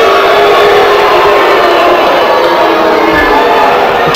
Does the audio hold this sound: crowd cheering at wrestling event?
yes